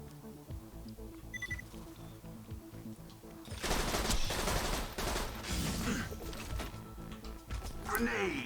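Rapid automatic gunfire from the Hornet gun in Borderlands, Zer0 on Digistruct Peak, erupts midway as dense loud bursts over game music and effects, with a voice talking early on.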